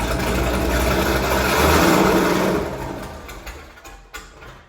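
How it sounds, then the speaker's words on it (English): A Corvette C6 Z06 engine with a big cam idles roughly with a loud, steady rumble, then dips and sputters, giving small uneven revs as it struggles not to stall. "That is the car trying to catch itself from stalling."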